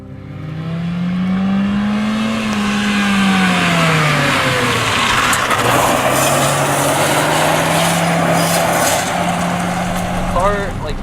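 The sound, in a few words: engine of a 2009 Honda Fit Sport driving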